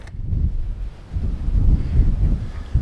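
Strong outdoor wind buffets the microphone in heavy low rumbling gusts, loud and continuous with brief lulls, during a skateboarding session in very high wind.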